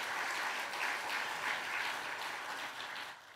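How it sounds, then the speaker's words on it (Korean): A church congregation applauds at a Sunday afternoon service, a dense, even wash of clapping from many hands that holds steady and then fades slightly at the end. "우리 이분들께도 더 뜨거운 박수 한번 보내드리도록 하겠습니다."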